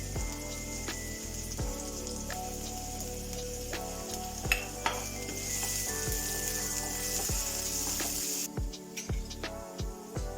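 Onions and garlic fry in a hot pan with a steady, crackling sizzle, with occasional stirring scrapes and clinks throughout.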